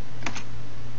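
A computer keyboard tapped in a quick short burst of two or three keystrokes over a steady low hum, close and clear, with no talking.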